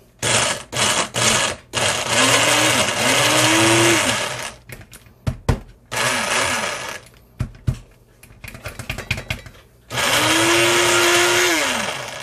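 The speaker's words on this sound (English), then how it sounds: "we got everything in the little mini blender, and we're just going to pulse this up real quick" Small mini blender pulsing a chili sauce base of tomatoes and other ingredients, several loud whirring bursts of a few seconds each with a rising motor pitch, separated by short pauses with clinks.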